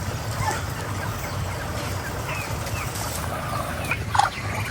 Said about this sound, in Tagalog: Nalapit na po itong mga manok at bibi